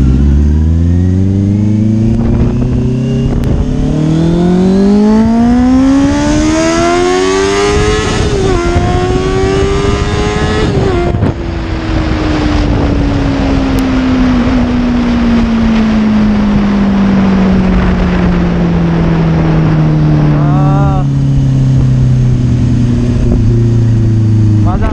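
A motorcycle fitted with a loud Ixil L60 full-system exhaust accelerating hard, its close, blaring engine note climbing through the gears with rising revs and a brief dip at a shift, then settling into a steady drone.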